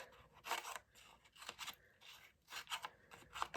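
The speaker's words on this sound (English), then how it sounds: "I'm just going to go all the way down the spine and just cut, cut" Scissors snipping through paper down the spine of a mixed media collage, a quiet series of short crisp cuts in an irregular rhythm, close and soft with no talk.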